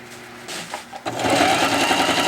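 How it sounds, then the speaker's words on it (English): A sewing machine stitches canvas for a South Bend lathe cover, a short start-stop burst followed by a fast, steady mechanical chatter up close, with light handling noise before the run. "I'm gonna take it to the sewing machine, and sew it"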